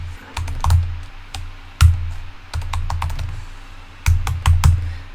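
Computer keyboard typing in bursts of quick, close key clicks with short pauses between them, heard alone with no talking.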